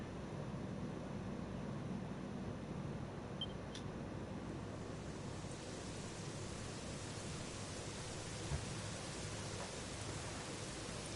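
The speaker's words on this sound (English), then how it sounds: "You know, it was raining like this the last time I ever saw her." Steady rain in the video game Dragon Quest 11, a continuous even hiss of falling rain that holds at a constant level throughout.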